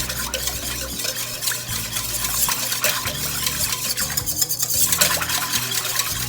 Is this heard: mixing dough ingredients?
yes